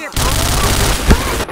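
Rapid bursts of gunfire fill a Point Blank first-person shooter match during a live clan tournament, loud and continuous with a heavier boom near the end.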